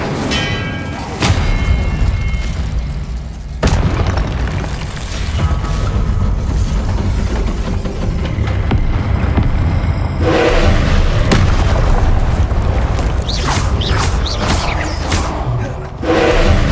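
Spells in the video game Hogwarts Legacy, including the Incendio fire spell, burst out as loud booming blasts and whooshes over a rumbling mechanical backdrop, with sharp cuts between bursts.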